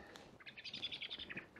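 Blackbird calling outdoors near a church and an old 19th-century powder house, a quick series of bright chirping notes at moderate distance, fairly faint, with no speech.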